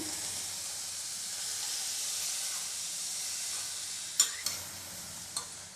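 Val bean pods and peanuts sauté in a pan with a steady, soft sizzle throughout, joined near the end by a few sharp clinks of a spatula stirring against the pan.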